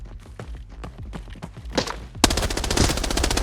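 Gunfire in Arena Breakout Infinite: a rapid string of sharp, close shots in an even rhythm, then a sudden loud, dense burst of automatic fire that continues to the end.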